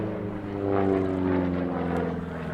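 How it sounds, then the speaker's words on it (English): A P-47 Thunderbolt warbird flies past at an air show near the St. Louis Gateway Arch, its big radial piston engine droning steadily at a moderate distance and swelling slightly midway. "The big old P-47 Thunderbolt 2 flying it right around the outside of the St. Louis Gateway Arch"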